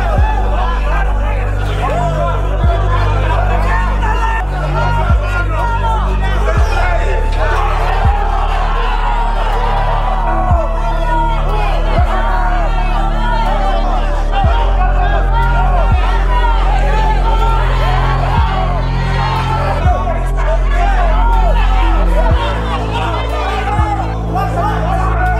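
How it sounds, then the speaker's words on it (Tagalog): A boxing crowd shouts and murmurs around the ring during a hard-fought professional bout, a dense, steady hubbub under a commentator's voice throughout, with a few louder surges. "Patuloy naman ang sigawan ng mga nanonood sa paligid dahil sa napakainit na laban ng dalawang"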